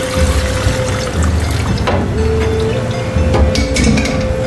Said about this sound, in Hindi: हम जो यखनी हमने बनाई थी वो हम इसके अंदर ऐड करने लगे हैं